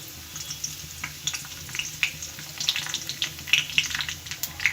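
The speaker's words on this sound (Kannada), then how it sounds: "ಈ ಕರ್ಬೇವಿನ ಸೊಪ್ಪು ಹಿಂಗೆ ಎಣ್ಣೆಲಿ ಫ್ರೈ ಆಗಬೇಕು." Curry leaves fry in hot oil in a pan for chicken fry, giving a close, crackling sizzle with bright irregular pops that grow busier and louder as it goes on.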